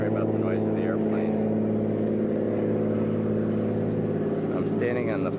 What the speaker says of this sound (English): Sorry about the noise of the airplane.